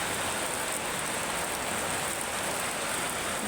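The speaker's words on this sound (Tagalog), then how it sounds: "Babaha na yung mga residente namin dito. Dahil sa ulan." Heavy rain falls on a leaking roof, a steady, dense, unbroken hiss of downpour that stays close and loud throughout.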